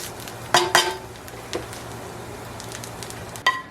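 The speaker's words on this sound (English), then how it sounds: "And just throw my spinach in, just like that." Fresh spinach drops into a hot pan with garlic, the burner already off, giving a few sharp metallic clanks from pan and utensil over a faint sizzle, then quieter stirring and another clatter near the end.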